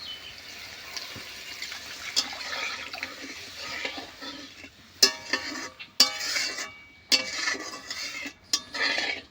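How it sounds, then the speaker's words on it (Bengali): Water is poured into a pan of curry gravy for an omelette curry, a soft continuous splash with clinks and scrapes of a utensil against the pan, close and fairly quiet. "এবার আমি জল দিয়ে দেব।"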